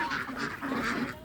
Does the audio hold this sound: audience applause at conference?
no